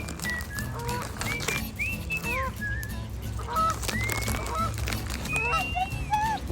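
Geese honk repeatedly in scattered calls over windy outdoor noise at a spot where ducks and geese are being fed, moderately near.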